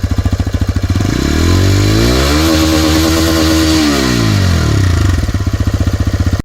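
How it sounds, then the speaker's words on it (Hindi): TVS Raider 125 BS-VI motorcycle revving up close, its exhaust note climbing from a throbbing idle to a loud sustained rev, then falling back to idle pulses; no talk. "तो चलिए आपको अब इसके एग्जॉस्ट नोड की आवाज़ सुनाते हैं और देखते हैं कैसा है इसका आवाज़।"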